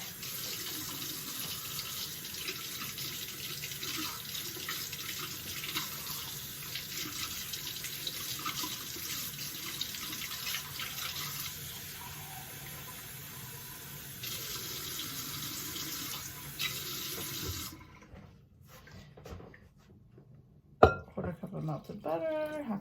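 Warm tap water runs steadily for most of the span, a continuous hissing stream that cuts off near the end, followed by a few clinks and brief handling noise.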